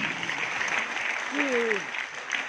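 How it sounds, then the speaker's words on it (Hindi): An audience at a direct-selling seminar claps in a dense, steady burst of applause filling the hall, with a brief voice rising over it. "ताली बजाएं इन लोगों के लिए"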